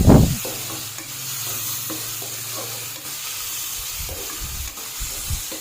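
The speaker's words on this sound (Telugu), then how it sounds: "తగినంత అల్లం వెల్లుల్లి అండి అది వేసుకొని అది రోస్ట్ కావాలి బాగా" Ginger and garlic sizzle and fry in a pan for cauliflower potato curry, with steady frying hiss and occasional stirring scrapes, close and continuous, no talking.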